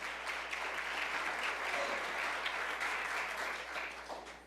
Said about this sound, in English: So let's give them a round of applause for the work that they're doing over at Cunningham Pest Control